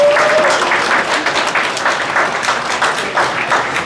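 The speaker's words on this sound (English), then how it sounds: "So definitely give them a round of applause." A room full of people gives company employees a round of applause. Loud, dense clapping keeps a steady texture for nearly four seconds, with a short whoop near the start.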